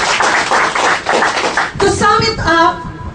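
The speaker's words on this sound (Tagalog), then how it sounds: "Palakpak naman." Audience applause at a business seminar fills the first couple of seconds as a dense burst of clapping, then fades as a voice speaks over the last part.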